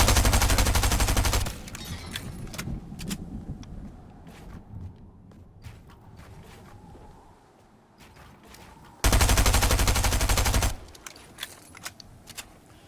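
Sniper rifle fire in a video game: two loud, sustained bursts of gunfire at the start and again near the end, with quieter clicks, footsteps and game ambience between them.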